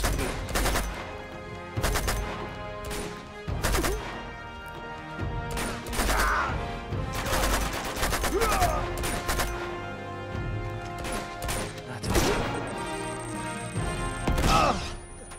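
Repeated short bursts of three-shot weapon gunfire in Uncharted 2: Among Thieves, loud volleys every couple of seconds over a steady musical background.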